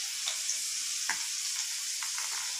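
Garlic fries in a clay pot with a soft, steady hiss, punctuated by a few light scrapes and taps from a spoon, quiet and close.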